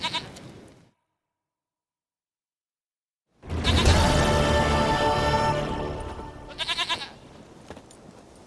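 A goat in Witcher 3 bleats: a short quavering bleat at the start, a long silence, then a loud drawn-out bleat followed by a brief trembling call, close and unaccompanied.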